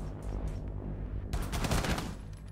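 Hip-fired gun in the tactical shooter Rainbow Six Siege, a quieter stretch giving way to a loud, close, rapid burst of shots in the second half.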